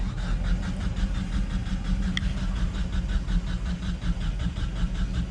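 A Dodge Ram 50 pickup's engine cranks and catches, then runs with a steady loud rumble throughout.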